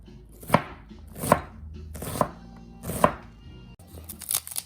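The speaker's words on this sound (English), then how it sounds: "cuts this way, and then this way. And then this way, we got a beautiful chopped onion." A knife chopping an onion on a cutting board: four loud, evenly spaced thuds about a second apart, followed by quicker, softer cuts at the end, close and with no voices.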